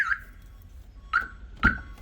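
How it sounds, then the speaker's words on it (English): A car alarm gives three short, sharp chirps, each followed by a brief ringing tone, close by with nothing else around. "The alarm works, which is a good sign."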